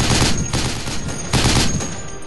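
Dense gunfire from a firefight in the Project Reality tactical shooter, US Army against Taliban, with two heavy loud bursts of rapid automatic fire over a constant roar of battle.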